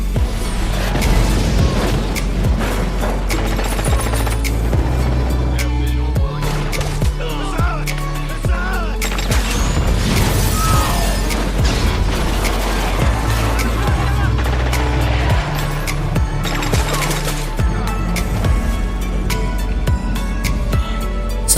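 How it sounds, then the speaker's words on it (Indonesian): Gunfire and explosive blasts from an RPG attack in the film Body of Lies, loud and continuous across the whole stretch, dense with booming impacts, rapid shots and mechanical clatter layered over a constant low rumble of film score. "Ferris dan Bassam ditembak oleh RPG."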